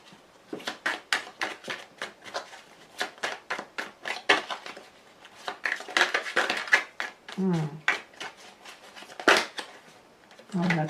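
Tarot cards are cut and shuffled by hand in a rapid series of crisp riffling snaps and slaps, bursts of flicking close to the listener, with a voice briefly talking between them.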